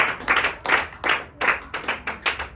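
A church congregation claps together in a steady, rhythmic beat, about three claps a second, loud and close with no talking over it.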